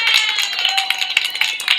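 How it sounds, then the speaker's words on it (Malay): An audience at a talk claps together in a brief burst of dense, rapid applause, close and fairly loud, with no voices over it. "saya seperti biasa nak memulakan dengan memberikan anda satu tepukan"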